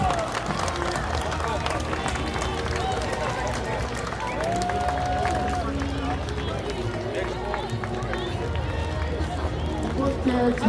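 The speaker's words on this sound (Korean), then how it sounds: "다시 한번 뜨거운 박수를 부탁드립니다" A crowd at a street dance parade at the 2024 Cheonan Heungtaryeong festival applauds after a Mexican dance troupe performs. Steady, dense clapping and crowd noise continue throughout, under an announcer speaking over a loudspeaker.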